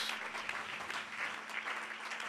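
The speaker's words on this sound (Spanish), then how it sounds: "Dele ese aplauso esta mañana a Él" Congregation applauding in a church during a worship service, a steady wash of many hands clapping at moderate distance with a faint hum underneath, no voices standing out.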